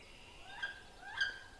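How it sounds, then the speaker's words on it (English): Wood duck call: two short rising squealing whistles about half a second apart, clear and moderately loud over a quiet background. "That is a wood duck."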